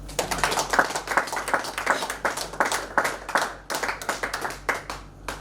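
A church congregation claps steadily in praise during a morning prayer meeting, many hands keeping a quick, even rhythm, loud and close, with hardly any voices, dropping off briefly before carrying on.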